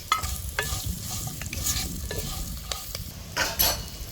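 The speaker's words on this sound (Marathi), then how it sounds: "त्या मिरच्या ह्याच्यात टाकायच्या थोड्याशा उलट्या पालट्या करून घ्यायच्या" Green chillies stir-fried in oil with turmeric, a continuous close sizzle broken by scraping stirs and a few sharper clatters of the spoon in the pan, no voices.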